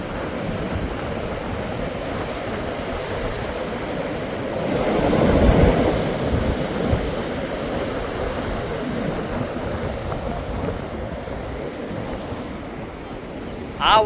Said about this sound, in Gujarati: નદી ઓટાણાના પુલ ઉપર થી એટલે કે દિશાના પુલ ઉપર થી બકડાટી બોલતું પાણી જાય